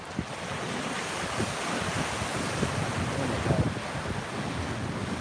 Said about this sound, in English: Just because it's so windy.